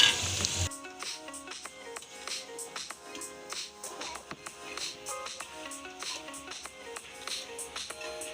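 Chicken sizzles steadily in a hot pan as green chillies are added, with a dense crackling fry and occasional stirring taps, close up and with no talking.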